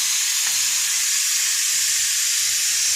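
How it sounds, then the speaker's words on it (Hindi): A pan of tadka tempering sizzles with a loud, steady, close hiss that barely varies, alongside chana dal boiling, with no voices. "यहाँ पे तड़का चढ़ा हुआ है।"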